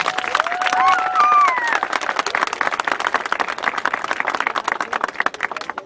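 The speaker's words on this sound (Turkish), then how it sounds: "Kızımıza verelim diyenler şöyle bir alkışlarını yükseltirler" Wedding guests applaud loudly with a dense, steady clapping that goes on throughout, joined by some crowd cheering and a whistle near the start.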